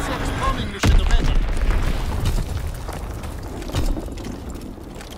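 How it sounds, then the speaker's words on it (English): An enemy bomb exploding in Call of Duty: WW2 hardcore domination, one sudden heavy close blast followed by rumbling debris and a smaller second boom, with game voices calling out over the battle noise. "Enemy bomb incoming."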